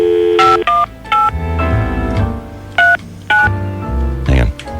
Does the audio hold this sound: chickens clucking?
no